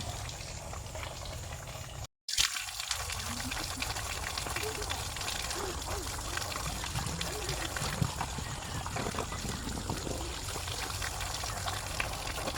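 Water runs steadily outdoors beside a house with a jackfruit tree in the afternoon, a continuous broadband rush and trickle lasting throughout, briefly cut off near the start, with faint voices in the background.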